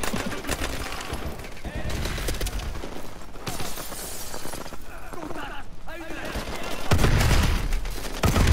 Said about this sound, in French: Il nous tire dessus